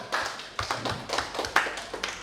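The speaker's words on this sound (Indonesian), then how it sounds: "Tepuk tangan dulu untuk kita semua." Brief, sparse applause in a school gathering: a small group clapping in uneven taps, fairly faint and close, with no talking over it.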